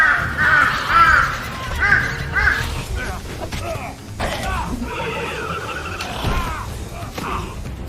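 Large birds caw harshly in a forest during a movie scene, several loud rasping calls in quick succession at first, then scattered calls mixed with rustling and mechanical noise, with a voice talking over them.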